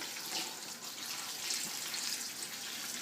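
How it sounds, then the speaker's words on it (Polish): Cold tap water runs steadily over salted napa cabbage leaves being rinsed in a kitchen sink for kimchi, a continuous close hiss of flowing water without pauses. "kapustę przypłukać zimną wodą. Należy to zrobić bardzo dokładnie, żeby pozbyć się tego nadmiaru soli."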